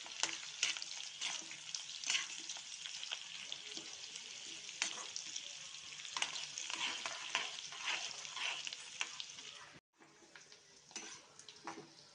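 Onions and green chillies fry in a pan for biryani, with a moderate, continuous sizzle broken by stirring scrapes and a brief dropout near the end, and no voices.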